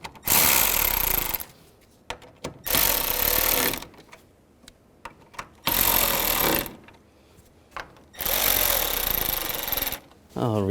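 Power tool driving hold-down screws for the wiring harness on a 2011–2014 Chrysler 200 during radiator replacement, four loud whirring bursts of one to two seconds each with short gaps and small clicks between.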